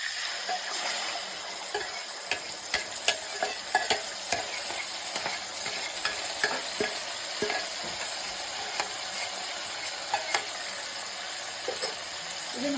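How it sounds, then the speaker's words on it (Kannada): Boiled tamarind gojju poured into a hot, sizzling tempering with curry leaves for puliyogare, then stirred; a steady loud sizzle and frying hiss runs throughout, with scraping stir clicks and small splashes scattered over it, and no talking. "ಇವಾಗ ಇದಕ್ಕೆ ಹುಣಸೆಹಣ್ಣು ಗೊಜ್ಜು ಕುದಿಸ್ಕೊಂಡಿದ್ವಲ್ಲ ಅದನ್ನು ಹಾಕ್ಬಿಡೋಣ"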